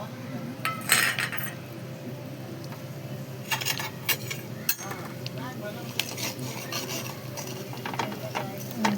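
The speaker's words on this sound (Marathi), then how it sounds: "मसाला पण छान असं परतून घेतलेला आहे आपण" Masala spices and curry leaves are sautéed in hot oil for a kingfish curry, with a utensil repeatedly scraping, clattering and rattling against the pan over a low, continuous background.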